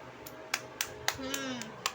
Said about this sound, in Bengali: গুড বয়, হাততালি দাও